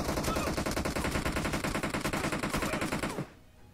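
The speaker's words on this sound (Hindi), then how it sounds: "बहुत जोर से गोली चलाता है वो, चला के पिटाई कर दी" Rapid automatic gunfire from a video game shooter, loud and continuous bursts of shots for about three seconds before cutting off abruptly into near silence.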